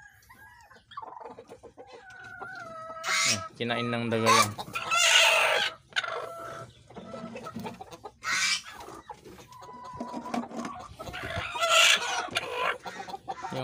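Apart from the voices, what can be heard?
brown Dekalb laying hens clucking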